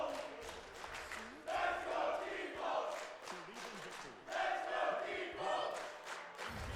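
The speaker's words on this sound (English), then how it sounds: "And the crowd is popping off for Default" Crowd at a Granblue Fantasy Versus: Rising top-eight fighting game tournament cheers and roars in loud surging bursts, with shouting rising and falling over a steady murmur.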